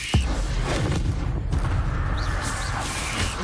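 A fire spell cast with the Incendio charm in Hogwarts Legacy on PS5 lands as a booming blast right at the start, then a dense crackling, rumbling roar keeps going underneath, loud and close.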